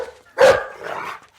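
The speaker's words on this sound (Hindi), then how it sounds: "अबे कुत्ते क्यों भौंक रहा है?" A dog gives a single loud, close bark followed by a softer trailing yelp, with no one speaking over it.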